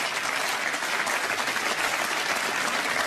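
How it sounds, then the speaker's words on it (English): Snooker crowd at the Scottish Open applauding a shot, a dense, steady wash of clapping that stays loud and even throughout, with no voices standing out. "And the crowd absolutely loving this."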